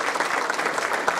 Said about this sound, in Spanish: Recibamos con un aplauso al maestro Antonio